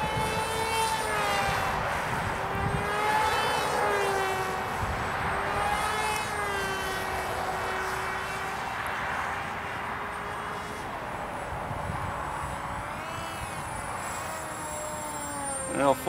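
A Lazertoyz Skimmer RC flying wing airplane flies slowly overhead in light wind, its electric motor giving a continuous whining drone that rises and falls in pitch as it passes at a moderate distance, with no talk.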